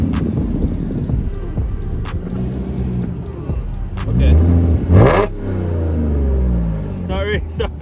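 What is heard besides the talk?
Audi S4 with Armytrix exhaust revving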